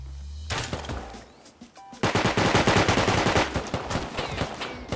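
Rapid automatic gunfire in the survival game Rust, a short burst, a pause, then a dense loud volley of repeated shots close by.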